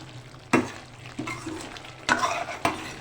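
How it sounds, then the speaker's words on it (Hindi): Potato curry with yogurt frying in oil, with a low sizzle beneath four distinct scraping strokes of a spoon through the pan, close up and spaced unevenly. "बस बहुत अच्छी तरह से आप इसको ऐसे चलाती जाएं। भूनना है उस टाइम तक आपने जब तक इसका ऑयल ऊपर ना आ जाए।"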